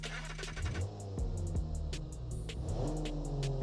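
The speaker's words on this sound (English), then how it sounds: "So let's fire up." A modern carburetored SUV's engine in the Automation car-building game fires up and revs several times, the pitch climbing and falling, loud and close with no talking.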